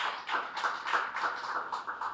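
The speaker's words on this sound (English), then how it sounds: "let's give them a round of applause" Audience applause for hard-working councillors at a political pre-budget consultation meeting in Pointe-A-Pierre, a steady patter of many hands clapping at moderate distance, even and sustained throughout.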